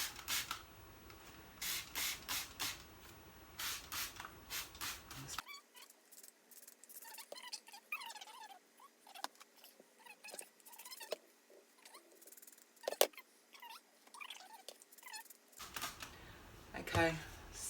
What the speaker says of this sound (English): So I'm going to spray on top